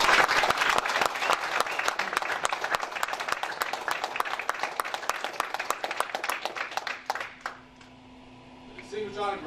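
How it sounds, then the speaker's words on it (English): Crowd at an army air defense graduation ceremony bursts into loud, dense applause that thins into scattered claps and fades near the end, with a few voices at the close. "please join me in a round of applause for the newest air defenders of the United States"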